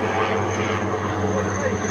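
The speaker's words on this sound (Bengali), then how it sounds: "সবাই দেখতে পাচ্ছ ওই যে হেলিকপ্টারটা একদম পাশ দিয়ে গেল" A helicopter passes close by at the Eco City site, producing a loud, steady engine and rotor drone that holds throughout with no clear break.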